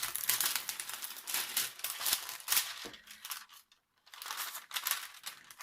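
Crisp paper crinkling and snipping from scissors, a steady run of cuts close by with a brief pause before the cutting resumes.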